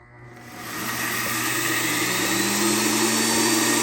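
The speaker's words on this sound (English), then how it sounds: "Oats, blender, blend it." A blender grinding oats into flour: the motor spins up from a quiet start into a loud, steady whirring roar that holds to the end.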